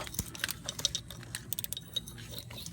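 A ratcheting wrench loosening the tensioner pulley center bolt on a Nissan 3.5 engine, a quiet, uneven series of close metallic clicks and ticks.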